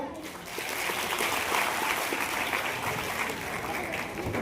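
An audience at a student honour ceremony held by a Prajapati youth development association in Anand claps loudly, a dense, sustained wash of applause lasting several seconds, with a voice briefly audible in the background.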